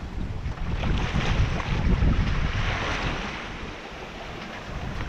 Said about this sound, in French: Le bateau avance bien